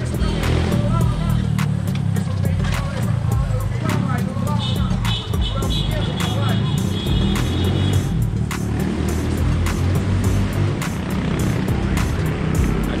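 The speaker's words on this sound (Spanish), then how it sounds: "El motor de Jimmy" A motorcycle engine runs on a rough trail with a steady rumbling drone and sharp clicks and knocks throughout, while people talk over it.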